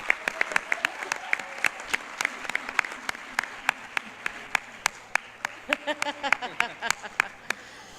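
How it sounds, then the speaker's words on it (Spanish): Audience at a legal conference on criminal offences claps for a birthday, sharp individual claps ringing out in a sustained round of applause, with a voice speaking faintly beneath it toward the end. "yo creo que se merece un aplauso"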